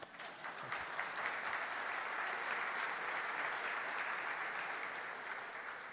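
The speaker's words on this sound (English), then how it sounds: "We're all clapping for Esri Maps for Office and Firefox" A conference audience applauding during a software demo for Esri Maps for Office, a dense, even roomful of clapping that holds steady throughout with no voices over it.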